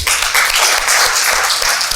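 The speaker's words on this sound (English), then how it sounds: "Let us clap for this again." An audience applauds at a talent show event, dense steady clapping filling the whole stretch without a break, loud and close.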